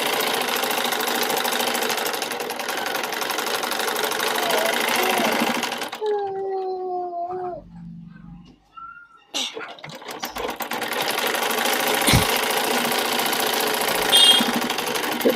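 A sewing machine stitches newborn baby cloth in a loud, steady mechanical run that pauses midway, with someone speaking briefly during the gap, then resumes.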